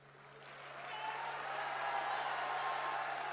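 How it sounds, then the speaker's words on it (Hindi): An audience at a social media volunteers' meeting in Kolkata claps, the applause starting soft and swelling into a steady, fairly distant wash of many hands over a low electrical hum. "अरे ताली तो बजा रहे हो भाई"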